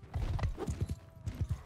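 Galloping hooves of a horse in the medieval combat game Mount & Blade II: Bannerlord, a quick run of close clip-clop beats in two bursts with no talk over them.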